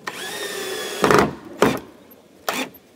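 Screws driven into wooden boards with a power drill, three short loud bursts of driving separated by pauses, close by, following a fading tonal whine.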